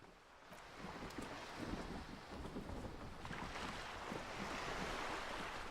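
Rushing water flows downstream in the detective game Disco Elysium, a continuous broad wash like surf or a strong current, steady and fairly close with no voices.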